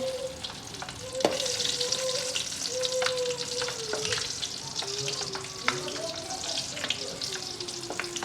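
Green chillies frying in hot oil for batata poha, a close, steady sizzle punctuated by sharp crackles and stirring clicks, with faint tonal sounds in the background.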